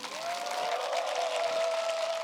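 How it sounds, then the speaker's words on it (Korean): A church congregation at a Korean Sunday worship service applauds loudly and steadily for a church building project, with a sustained tone ringing through the short burst. "크게 박수해 주시기 바랍니다"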